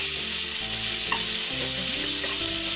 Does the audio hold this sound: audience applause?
no